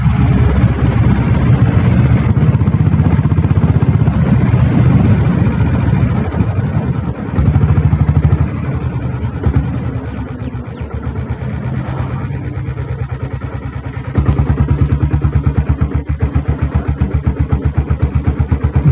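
A Royal Enfield diesel Bullet motorcycle being ridden, its engine thumping loud and steady throughout, with a change in tone and level around the middle and a renewed surge near the end as it shifts gears.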